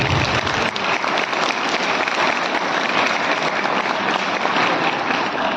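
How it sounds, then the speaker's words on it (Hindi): A school audience of students and teachers claps loudly and continuously for several seconds, a dense, even wash of applause with no break. "तो एक बार अपने लिए जोर से ताली बजा दीजिए"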